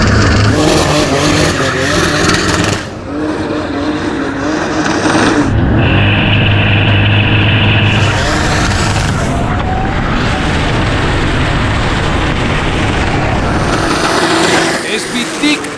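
A 700-horsepower race car roars loudly and close at a tire event, its engine surging and cutting out between bursts, with tire squeal and skidding and people talking over the din.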